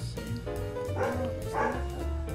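A dog barks and yips in a quick cluster of several short, sharp calls, close and fairly loud, over a busy background.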